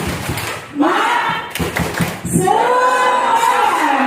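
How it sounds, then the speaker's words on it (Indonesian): A group performs the rhythmic 'tepuk semangat' clapping chant at a school culture session, sharp claps in a pattern alternating with voices calling out the chant. "Tepuk semangat."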